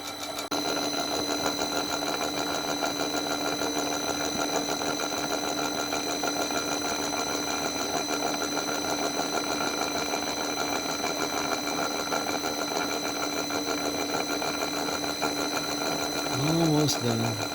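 A homemade gear hobbing machine cuts a gear with a spinning hob, giving a steady, close mechanical drone with a continuous tonal whine that holds throughout and rises slightly near the end.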